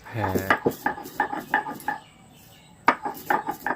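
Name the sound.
spices ground on a grinding stone (shil-nora)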